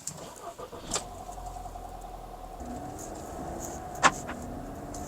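A VW Tiguan with a freshly redone cylinder head and timing kit runs at a steady, quiet idle, with a couple of sharp clicks or clunks punctuating the low engine hum.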